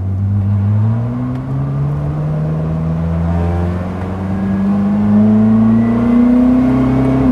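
A loud, close turbocharged Koenigsegg Jesko engine, heard onboard, holds a smooth, rising howl as it revs steadily higher, then cuts off sharply at the end.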